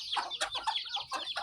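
Chickens cluck in an open field on a rural smallholding, a rapid run of close, overlapping clucks and squawks with no voices.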